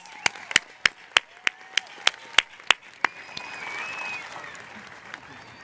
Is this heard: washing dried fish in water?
no